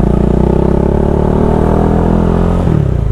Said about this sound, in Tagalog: ingay ng tambutyo natin.